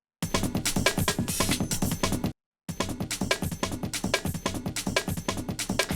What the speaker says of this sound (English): it's actually a drum loop